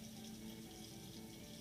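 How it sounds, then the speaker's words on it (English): A sink tap runs a small stream of lukewarm water, giving a soft, steady trickle that stays quiet and even throughout. "I'm going to go over here to the sink and turn on some tepid or lukewarm water in just a small stream."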